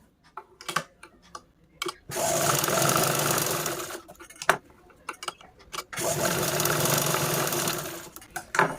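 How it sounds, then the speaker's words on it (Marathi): A sewing machine stitches a cloth drawstring tassel in two loud, steady bursts of rapid whirring of about two seconds each, separated by quiet gaps with small handling clicks. "यावरती आपण अजून दोन ते तीन टिपा मारून घेत आहोत"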